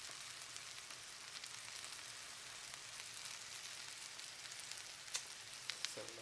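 Sandwiches fry in butter in a pan with a steady, even sizzle that holds throughout, a few sharper pops near the end.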